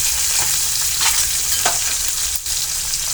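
Green chillies, curry leaves and hing crackle and sizzle in hot oil for a dal tadka, a close, steady frying hiss with a few soft stirring scrapes.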